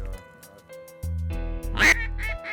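Ducks quacking during a duck hunt on the water where gadwall were coming in: a few loud, close, drawn-out quacks in quick succession, with no talk.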